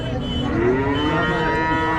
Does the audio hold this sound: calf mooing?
yes